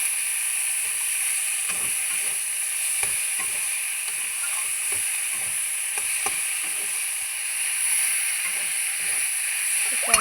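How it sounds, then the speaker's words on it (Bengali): Soybean chunks frying with spices in a pan give a steady high sizzle and hiss, broken by repeated soft scrapes and clinks of stirring, close and alone without talk. "তখন সোয়াবিনটা অল্প ভেজে নেব মশলার সাথে।"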